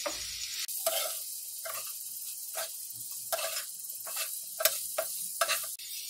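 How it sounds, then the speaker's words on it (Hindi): Arbi leaf patode shallow-fry in oil with a soft sizzle that comes and goes, broken by a series of sharp spatula taps and scrapes as the pieces are turned over. "इनको अलट पलट करके अच्छे से सेक लें"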